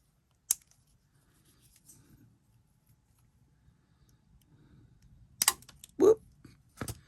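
Scissors snip the ends off sari fabric in a quiet room: a single sharp cut early, then a quick cluster of snips and rustling near the end, with no talking.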